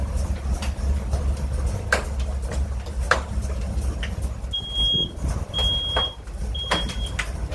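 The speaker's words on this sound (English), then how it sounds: "Your smoke alarm's going off." A smoke alarm chirps three times in short, thin, high beeps beneath a rumbling engine backdrop from a 1981 Turbo Trans Am in a workshop, with scattered clicks and knocks.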